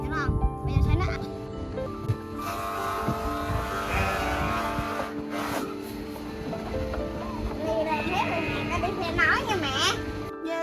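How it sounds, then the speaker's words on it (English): Sheep grazing in quiet countryside bleat several times, with wavering cries near the start and a cluster toward the end, over children's voices and a vehicle rumbling in the background. "finds the sheep grazing peacefully"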